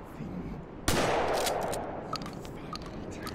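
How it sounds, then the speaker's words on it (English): A single loud shotgun blast in the video game Gloomwood booms sharply, followed by a decaying echo and small scattered clatters in a dim ambience. "It is a shotgun."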